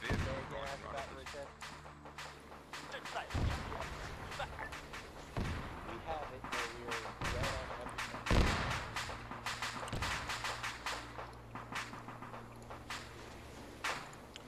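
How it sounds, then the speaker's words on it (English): Booming artillery fire in a video game lands in repeated heavy thuds spread across the stretch, mixed with sharper gunshot cracks and busy battle noise, while players talk over it. "start putting some artillery down"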